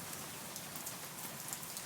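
Steady rain falls in the Red River Gorge area of Kentucky, a soft continuous hiss of drops on surfaces with no voices, fairly faint and even throughout.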